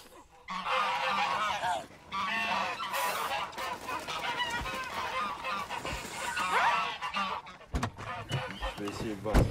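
Male geese (ganders) honk loudly and repeatedly in a French countryside scene, a noisy overlapping chorus with voices talking in French around it.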